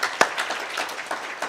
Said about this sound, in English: I would give her a round of applause